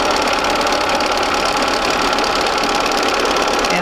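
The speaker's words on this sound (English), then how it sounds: "just go ahead and sew right on that line" A sewing machine stitches quilt pieces along a marked line, running as a continuous, dense mechanical whir with a fast steady pulse, close and loud for the whole stretch.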